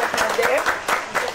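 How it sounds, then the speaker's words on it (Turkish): Studio audience applause on a Turkish cooking competition show welcoming the host, a brief burst of lively clapping with voices over it. "alkışlarla ev sahibini davet ediyoruz efendim"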